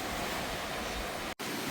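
Ocean waves on an island shore in Aceh Jaya, a steady broad wash of surf and wind at a campsite, with a brief dropout near the end, no talk.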